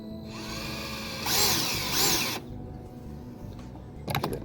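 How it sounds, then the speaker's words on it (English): A power drill pre-drilling holes for a ladder-mounted roll guard on a Bestway pool whines in two short, rising bursts, then winds down; a few sharp clicks and clatters follow at the end. "So we'll go ahead and pre-drill these again."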